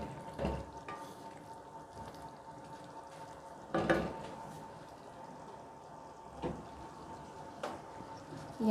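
Tomatoes sizzle softly as they fry in a karahi while Peshawari chicken karahi is cooked. A low, steady frying hiss is broken by a few scraping stirs and utensil knocks, and there is no talk.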